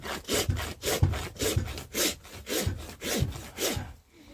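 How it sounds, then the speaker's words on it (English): A farrier's rasp files a horse's hoof in about eight regular back-and-forth strokes. The scraping is close and rough, with a steady rhythm and no speech. "I'm going to rasp smooth back to that line that we created."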